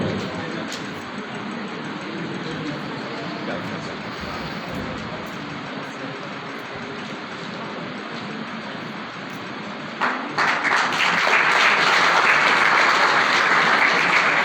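An audience applauds at an annual school results prize ceremony, a dense, continuous patter of clapping that swells louder toward the end.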